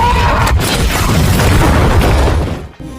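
A rocket-propelled grenade blast in a monster film hits the creature Diablos as a loud, sustained, broadband roar, filling three seconds before a brief drop and renewed rumble.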